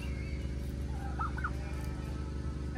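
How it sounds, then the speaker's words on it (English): A turkey among chickens and a peacock gives a short warbling gobble, a couple of quick wavering calls in the middle over a steady low outdoor hum, fairly distant and modest in loudness. "That turkey."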